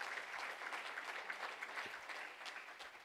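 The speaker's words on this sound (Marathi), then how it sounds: "टाळ्या जोरदार झाल्या पाहिजेत." An audience at an award ceremony applauds continuously, a fairly distant, dense patter of many hands clapping at an even level for the whole stretch.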